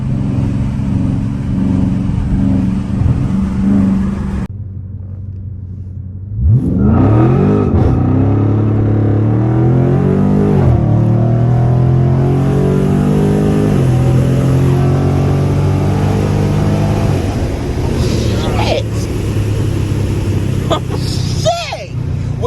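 A Dodge Scat Pack with traction control fully off launches hard from inside the cabin, its engine roaring up through the gears in rising, shifting sweeps. The loud, sustained acceleration runs under excited talk.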